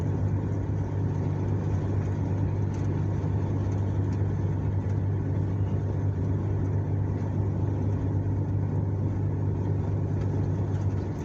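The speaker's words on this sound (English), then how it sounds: "What kind of car do I have? A 1989 Plymouth Acclaim." A 1989 Plymouth Acclaim in a video game cruising down a highway, its engine a steady low drone with a continuous rumble that holds an even level throughout, no voices over it.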